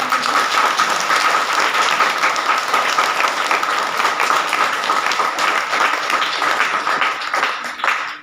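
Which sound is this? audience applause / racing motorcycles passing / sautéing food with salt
audience applause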